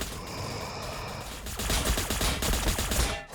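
A massed Astra Militarum gunfire volley in a Warhammer 40,000 video game battle against Necrons: steady shooting that swells into a louder, dense rattle of rapid overlapping shots midway, then cuts off sharply.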